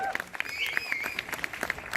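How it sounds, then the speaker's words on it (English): A crowd at a TV series trailer launch applauds in sparse, scattered claps close by, with a high whistle or tone running through. "One more time, can we have the claps, please, for the night manager?"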